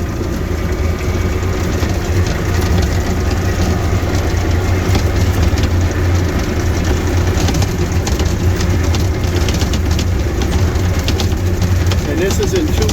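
A snowplow truck on chains, running in two-wheel drive, rolls along slowly with a steady low engine drone and a continuous rattling clatter from the chains, close and loud throughout.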